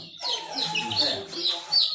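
Chickens on a small home poultry farm cluck and squawk in agitation while being caught by hand, a close, continuous burst of fowl calls.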